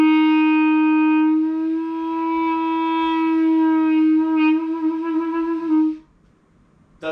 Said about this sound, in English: Here's what it sounds like if your thumb moves while playing it.